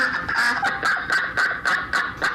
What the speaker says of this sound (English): the sounds of those deranged ducks